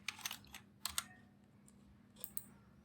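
Keys on a computer keyboard click quietly up close in short irregular bursts of typing, with brief pauses between groups of taps.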